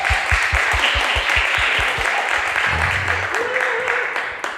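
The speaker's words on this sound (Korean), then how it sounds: "일어나 주시면 박수로" A church congregation at a Sunday service claps in welcome for a visiting father, a loud, fast run of individual claps that fades out as a voice speaks briefly.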